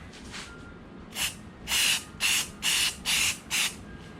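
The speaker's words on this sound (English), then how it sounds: "I am using, just spraying it on the table." A Rust-Oleum spray paint can hisses onto a cabinet piece resting on a table, giving six short bursts in a steady rhythm, close and fairly loud, with no talking.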